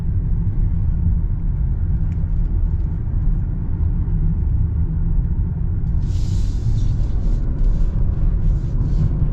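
A low engine rumble from inside a 2025 Toyota Camry hybrid accelerating holds steady and loud, with a brief higher whoosh of passing noise partway through; no one speaks.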